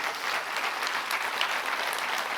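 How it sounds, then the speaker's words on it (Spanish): A church congregation claps steadily and energetically, a dense, even wash of applause without pause. "Dele un aplauso al Señor."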